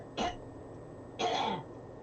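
Two short coughs or throat clears come from someone in the background of a tabletop card game session, spaced about a second apart and fairly faint.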